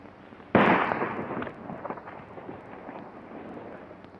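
A gunshot in a 1939 western film, heard as a single sharp, loud blast whose crackling echo dies away over about a second, with faint fainter pops after it.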